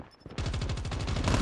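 M16 assault rifle fire in Call of Duty Mobile, a fast automatic burst of about a dozen close, loud, evenly spaced shots starting after a brief quiet moment.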